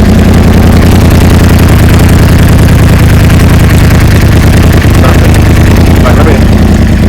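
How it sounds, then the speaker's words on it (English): A Yamaha R1 sport motorcycle under rebuild idles in neutral, a loud, steady low engine drone that runs continuously and close up, with no break in its even rumble. "So literally, I can crank the bike here."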